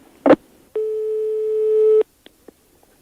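After a short clunk as a telephone is hung up, a single steady electronic busy tone sounds for over a second, then stops, followed by a few faint clicks.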